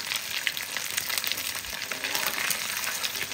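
Hot oil sizzles and crackles steadily up close as fish fries, a constant busy frying hiss with small pops and no voices.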